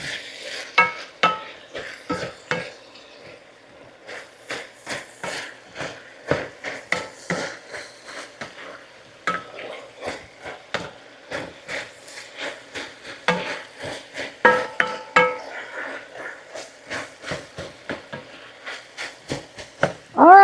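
Chopped potatoes stirred into browned ground meat in a pot for bacon cheeseburger soup, with close, repeated scraping and clattering strokes of a spoon against the pot over about twenty seconds and no talk.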